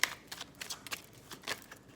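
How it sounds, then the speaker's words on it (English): Deck of tarot cards being shuffled by hand, a quick series of soft riffling and flicking bursts in an uneven rhythm, close and fairly quiet, with no talk. "Why am I shuffling that deck?"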